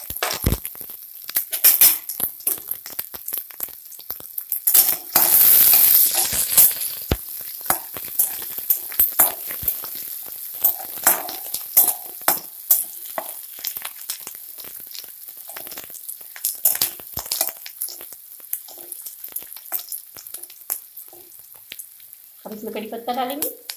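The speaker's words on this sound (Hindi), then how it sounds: "अब प्याज जो है इसमें प्याज अच्छी तरह से भूनना है।" Onions frying in a pan with green chilies while cooking vermicelli upma, a crackling sizzle broken by frequent scraping and stirring clatter, loudest early on and continuing steadily.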